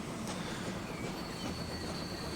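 A train in Transport Fever 2 eases down gradually toward a signal, with a steady rumbling roll, faint wheel squeal and soft clicking of wheels over rail joints, heard alone.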